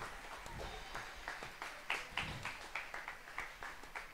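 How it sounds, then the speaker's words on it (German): An audience at a burlesque musical event in Scuol applauds, fairly faint and distant, with a loose rhythm of clustered claps that rise and fall in waves. "Grossen Applaus für beide."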